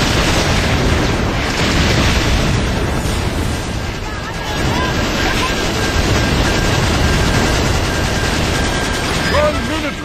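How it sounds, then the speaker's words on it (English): Missile explosions in a Wii video game, a continuous loud roar of booming blasts and rumble that runs without a break from start to end. "missiles explode before flying"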